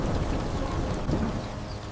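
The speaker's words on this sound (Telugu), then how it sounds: "వాన పడితే" Heavy rain pours down with a low rumble of thunder on a village night, a dense continuous wash of noise with no voices.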